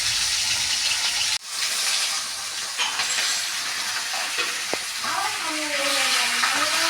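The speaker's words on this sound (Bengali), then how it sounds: "এক পিঠ ভাজা হয়ে গেছে আমার। আমি আর এক পিঠ এবার উল্টে দিচ্ছি।" Silver carp frying in a pan, being flipped to cook the second side; a steady broadband sizzle runs throughout with a brief dropout, light scraping and a few soft tonal squeaks near the end.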